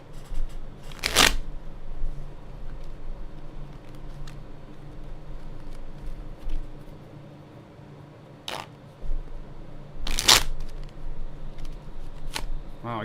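A deck of playing cards is riffled in two quick bursts, a crisp fluttering rush each time, over a low steady background hum.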